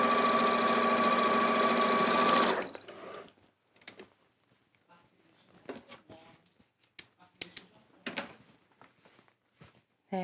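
A sewing machine stitches fabric in one steady, close run for about two and a half seconds, then stops, leaving faint scattered clicks and handling noises.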